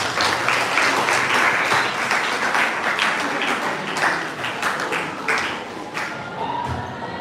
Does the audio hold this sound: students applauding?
yes